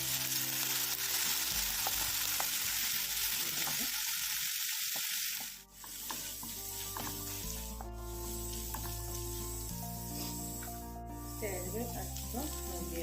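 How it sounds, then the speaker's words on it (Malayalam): Garlic fries in oil in a pan, giving a steady sizzle with a short quiet dip partway through and soft stirring scrapes, over a background of music. "പാനിലേക്ക് 2 ടേബിൾ സ്പൂൺ ഓയിൽ ഒഴിച്ച് 1 ടേബിൾ സ്പൂൺ ഗാർലിക്"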